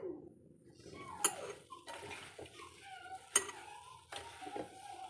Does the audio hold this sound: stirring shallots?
yes